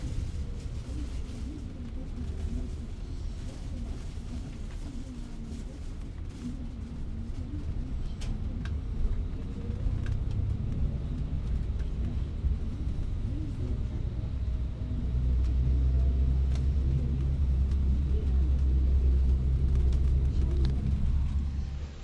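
Inside a coach bus travelling from Kusadasi to Izmir, Turkey, a continuous low road rumble and engine drone swells gradually louder, with faint scattered rattles over the steady hum.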